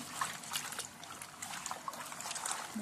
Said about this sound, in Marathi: आता वरून आपण याच्यात पाणी घालूया